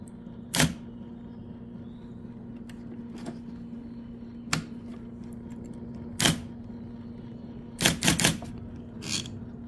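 An IBM Correcting Selectric II electric typewriter strikes keys in sharp, isolated clacks spaced a second or more apart, ending in a quick cluster of three, over a steady motor hum.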